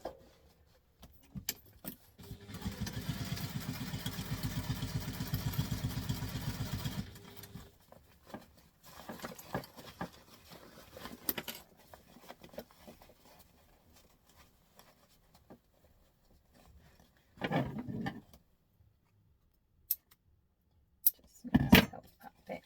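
A sewing machine stitching fabric, a fast steady mechanical whir for several seconds, then stopping, followed by sparse handling clicks and rustles of the cloth, close and fairly quiet.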